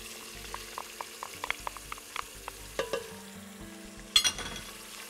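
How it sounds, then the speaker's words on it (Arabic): Finely chopped onion frying in a pan, a soft, low sizzle broken by sharp clicks of a utensil stirring against the metal, with one louder scrape near the end and no voices. "هبتدي بالبصل، احط بصل مفروم ناعم"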